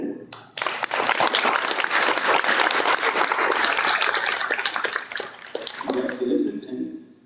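An audience at a fifth-grade moving-up ceremony breaks into dense, sustained clapping that holds steady for several seconds, then thins and fades as voices come in near the end.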